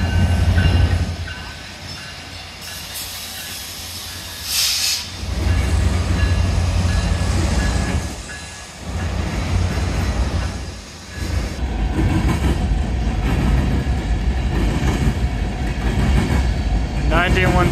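An EMD SD70 diesel locomotive hauls a coal train past at close range, a loud, sustained rumble of engine and rolling railcars with rhythmic wheel clatter and brief squeals, with voices talking over it.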